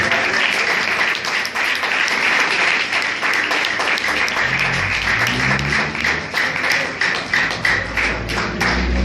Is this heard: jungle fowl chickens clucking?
no